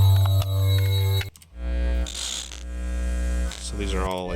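Electronic hum effects from a sound library of glitches and hums: a loud, steady buzzing drone with strong harmonics, broken by a brief dropout and then a shifting, pulsing electronic tone.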